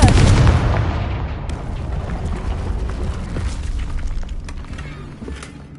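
A loud booming explosion from the Confringo fire spell in Hogwarts Legacy erupts at the start, then a rumbling, crackling tail decays slowly beneath quieter game ambience.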